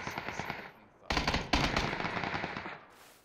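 Automatic gunfire in PUBG, rapid bursts of close shots rattling in sequence, then a denser, louder volley that continues and fades near the end, with a voice talking underneath.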